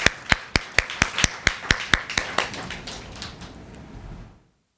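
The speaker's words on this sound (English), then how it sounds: "With a round of applause," A small audience at a literary reading series event in Accra claps to welcome a reader: about a dozen crisp, distinct claps in a brisk rhythm, thinning out and fading to silence.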